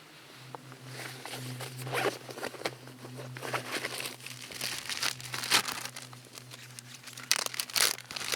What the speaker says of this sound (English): See these gallon Ziploc bags? A lot of uses for those.